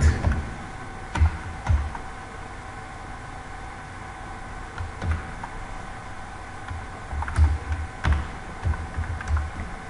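Python code being typed on a computer keyboard, with scattered bursts of key clicks and short pauses between them, close and moderately loud, no voice.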